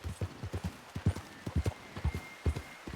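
A horse in the Red Dead Redemption video game walks with crisp, close clip-clopping hoofbeats, about a dozen evenly paced strikes in a steady gait, alone and clear.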